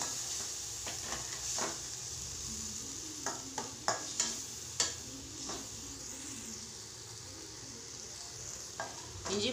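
Ginger garlic paste sautéing in a pan for noodles, a soft continuous sizzle broken by scattered scraping stirs clustered in the middle, fairly quiet and close; no speech.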